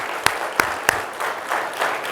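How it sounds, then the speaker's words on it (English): A small crowd at an employee and officer of the month breakfast applauds the virtual services team, a few sharp distinct claps up front followed by a softer, thinner patter that tapers off. "So one more time, round of applause for virtual services."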